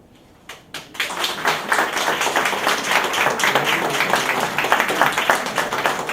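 Sustained applause from an audience at the opening of a commemorative session of a women's academy of letters and arts in Goiás, starting with a few scattered claps and swelling into dense, steady clapping without any speech.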